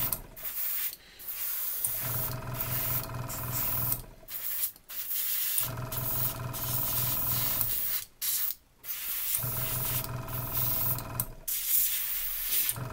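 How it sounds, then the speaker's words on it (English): An airbrush sprays black primer over a miniature in steady bursts of hiss, about four long passes separated by short pauses, close and loud with no talking. "Spray nice and even all over our model."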